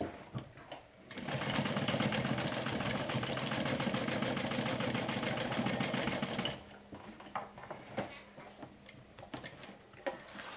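A sewing machine top stitches a seam allowance on a Pheobe mini backpack, whirring steadily and loudly for about five seconds before stopping, followed by a few small handling clicks and taps.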